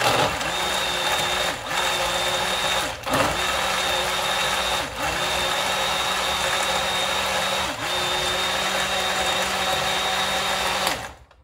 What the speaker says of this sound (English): You can pulse it slowly because you don't want to shake your blender